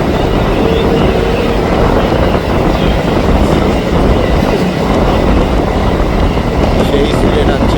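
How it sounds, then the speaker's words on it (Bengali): A Howrah–Bardhaman local train on the chord line runs at high speed with a loud, continuous rumble and rattle of wheels and carriages, another local running alongside on a parallel track. "আরেকটা প্যারালাল রান এখন হচ্ছে, লোকাল ভার্সেস লোকাল।"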